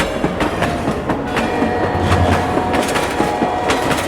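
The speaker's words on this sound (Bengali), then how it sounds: "ওদিকে বুকুটুকু ট্রেন তখন প্রায় মাঝপথে" A train running on its tracks: a loud, close, steady rumble with a rhythmic clickety-clack of the wheels throughout.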